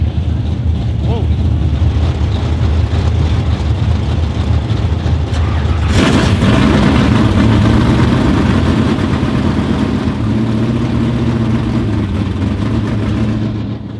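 An IMCA hobby stock race car engine idles roughly, then catches and runs louder and steadier, revving up and settling into a heavy, continuous rumble close by.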